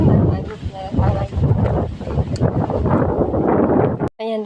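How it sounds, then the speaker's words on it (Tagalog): Strong gusts buffet the microphone in rough, rumbling blasts on a steep path near farm fields, briefly cut off near the end before a voice speaks. "Ang lakas ng hangin."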